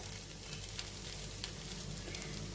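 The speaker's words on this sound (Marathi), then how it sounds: "मी मीडियम थिकनेसचे डोसे घालणार आहे" Dosa batter sizzles steadily on a hot griddle for coconut dosa, a soft even crackle with faint pops, close and alone with no talk.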